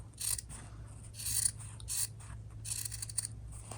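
Scissors snip and rasp through sewn fabric in several short, close cuts spaced about half a second apart, over a low background hum, with no talking.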